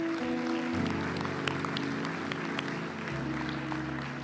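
Sustained applause from a church congregation, a dense steady clatter of clapping lasting several seconds over a low musical hum.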